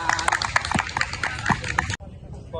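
A group claps briefly at a basketball training session in a series of sharp, separate claps that stop suddenly after about two seconds, leaving quiet room tone.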